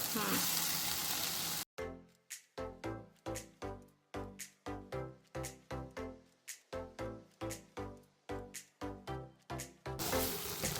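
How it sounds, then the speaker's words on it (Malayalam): Masala stirred into a sizzling pan of onions for an Easter mutton curry: steady frying hiss at the start and end, with about a dozen rhythmic scraping strokes of a spoon against the pan in between. "നമ്മളിപ്പോൾ മസാല എല്ലാം കൂടെ ഇടുവാണ്. എന്നിട്ട് ഇളക്കും."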